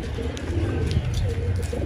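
Roller pigeons coo in a low, soft, continuous rumble, close by, with faint chirpy bits above.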